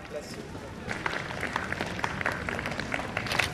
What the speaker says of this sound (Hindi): ताली बजाते रहिए इनके लिए साथ में